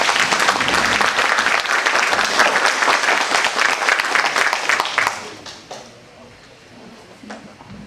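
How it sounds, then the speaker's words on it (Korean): An audience at a social welfare policy forum for Yongin mayoral candidates claps warmly for about five seconds. The sustained applause then drops off quickly, leaving a few scattered claps and quiet room noise. "다시 한번 격려와 성원의 박수를 맞이하겠습니다."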